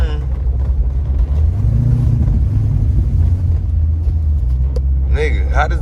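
A car out on a test drive after an injector change, with a steady, close engine rumble and road noise throughout, briefly rising in pitch, while people talk over it.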